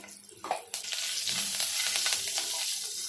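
Two green chillies sizzle and fry in hot oil in a pan, a steady bright crackle that swells after a short opening splash and holds loud and continuous to the end, with no talk.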